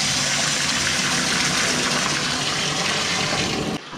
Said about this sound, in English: So we'll get some water, get it washed through here